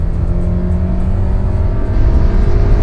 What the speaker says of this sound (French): pour un mode sport, il faut vraiment monter dans les tours.